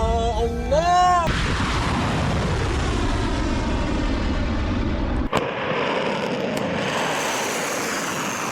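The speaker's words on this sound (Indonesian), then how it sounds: "Misil rudal diluncurkan Garda Revolusi Iran. Rudal-rudal lepas landas melesat" Iranian Revolutionary Guard missiles launching, a loud, sustained roaring rush that fills the whole stretch, broken by one sharp crack near the end before the roar continues more thinly.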